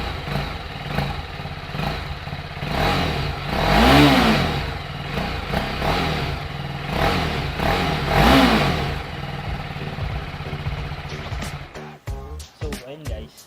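A TVS Apache RR 310 motorcycle engine revs close by in a couple of strong surges that fall back to a rough idle, loud and alone, before a few sharp clicks and a cut at the end.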